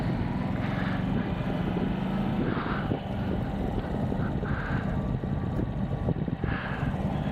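A Yamaha MT-125 motorcycle ridden at slow speed, its small engine giving a low, steady throbbing drone under wind buffeting, close and continuous throughout, with no talking.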